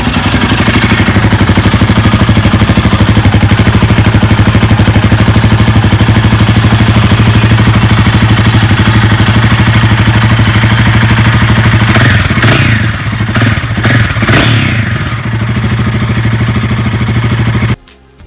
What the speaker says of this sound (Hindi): तो मैं इसका आपको एक बार एग्जॉस्ट नोट सुनाता हूँ कि कैसा लगता है।